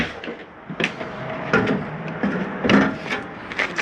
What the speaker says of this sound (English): The steps fold up pretty easy.